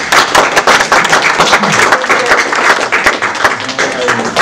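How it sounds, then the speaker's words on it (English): Audience applause after a presentation at an African studies event, loud dense clapping from a packed room, sustained and fairly close throughout. "Could we give her a round of applause?"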